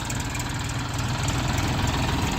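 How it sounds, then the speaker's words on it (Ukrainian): A Lovol 244 three-cylinder four-wheel-drive tractor idles steadily, a low, even diesel chug with a rapid regular pulse, close by and without voices. "Відвантажуємо сьогодні тракториця Ловол 244 на вузькій резині."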